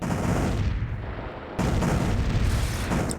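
Planetary ion cannon firing in the space strategy game Distant Worlds Universe: a dense, loud, continuous barrage of rumbling blasts that surges sharply about halfway through and keeps pounding to the end.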